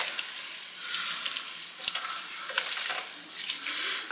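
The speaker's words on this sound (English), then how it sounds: "now that my meat is getting close to being done, I'm going to go ahead and add in 1 tablespoon of garlic. Then I'm going to get this well combined." Ground beef sizzling in a pan as garlic is stirred in, with steady frying hiss and occasional scraping and clinks of a utensil against the pan.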